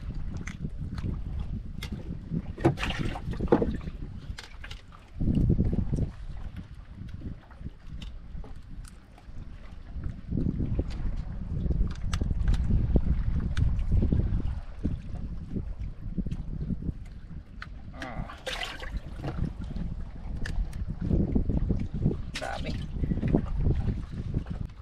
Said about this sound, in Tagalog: Nagparamdam na yung hangin.